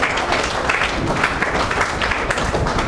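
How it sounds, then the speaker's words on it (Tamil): Audience applause at a Tamil commemoration of the poet Bharathi's memorial day, a dense steady wash of many hands clapping that holds at even loudness throughout, with no speech over it. "இந்த பாரதியின் நினைவு நாளை கொண்டாடும் போது நம்ம கைத்தட்டி அவருடைய வரவேற்பு."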